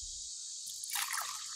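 Water pours into a measuring cup for pizza dough, a faint steady hiss of flow that swells into a brief splashy trickle near the end, heard close up in a quiet room.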